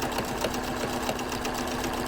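A sewing machine runs steadily, stitching through a chenille pillow, its rapid, even needle rhythm close and moderately loud for the whole stretch.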